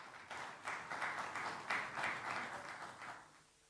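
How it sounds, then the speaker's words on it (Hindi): Applause from an audience welcoming Madhya Pradesh's deputy chief minister Rajendra Shukla, moderate and fairly distant, with a steady patter of clapping that fades toward the end. "जोरदार तालियों से इनका स्वागत।"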